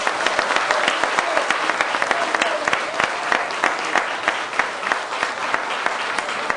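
An audience at an outdoor political rally gives sustained, dense applause for a mayoral candidate in Tivat, with many hands clapping loudly and steadily throughout.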